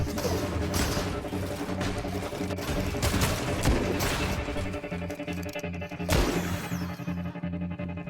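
Fortnite pistol shots crack out loud and close in a dense, repeated series, with sharp impacts and crashing hits layered over a busy game soundtrack, ending in one heavy blast and fading ambience.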